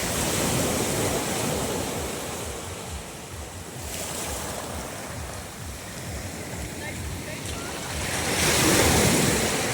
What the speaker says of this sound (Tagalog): Kaya ganda ng hampas ng alon, no?